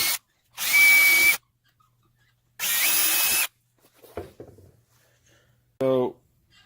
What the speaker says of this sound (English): some more indicator holes here that we need to drill for the leaf hinges